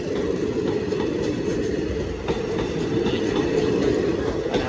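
The Vadodara Express, an Indian passenger train, rolls past very slowly, giving a steady low rumble with faint rhythmic rattling of the wagons. The sound stays constant and fairly loud the whole time.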